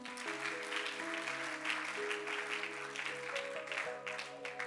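A church congregation applauds steadily as a sustained patter of many clapping hands, set against held keyboard or organ chords throughout.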